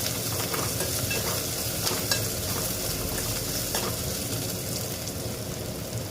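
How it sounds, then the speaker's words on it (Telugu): Garlic paste fries in a pan, a steady dense sizzle running throughout with occasional soft stirring scrapes; no one speaks. "ఎల్లిగడ్డ పేస్ట్ వేసుకోవాలి. పచ్చి వాసన పోయిందాక ఫ్రై చేయాలి"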